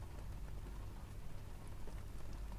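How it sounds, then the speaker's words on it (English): Steady rain falling outdoors, a faint, even patter and hiss with a low background rumble, continuous and without pauses. "In the rain."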